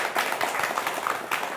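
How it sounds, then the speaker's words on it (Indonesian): Applause from a crowd at a classic motorbike gathering in Palembang, a steady, fairly dense patter of clapping hands at moderate distance, running unbroken for about a second and a half with no voices over it. "Luar biasa, tepuk tangannya dong."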